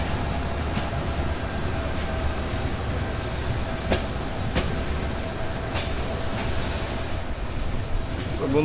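A local train runs from Patgram to Lalmonirhat. Its steady rumble and rattling fill the clip from inside the carriage, with regular rail-joint clicks and knocks and a faint high whine.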